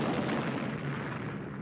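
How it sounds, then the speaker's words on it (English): An enormous cannon explodes at the Alamo, heard as a dense, roaring blast of rumbling noise that fills the moment and stays loud throughout, with no voices. "It exploded."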